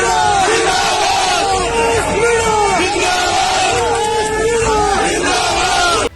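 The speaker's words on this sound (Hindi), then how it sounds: "इस भीड़ में सचिन पायलट जिंदाबाद के नारे भी नरेश मीणा ने जमकर" A dense political crowd chants slogans for Sachin Pilot in loud, rhythmic unison, the repeated cries rising and falling continuously and close to the microphone throughout.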